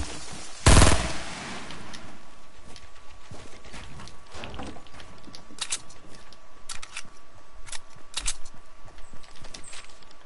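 A Fury hand cannon fires in a video game: a loud sharp blast near the start, then scattered shots and clattering impacts at uneven intervals over a low background.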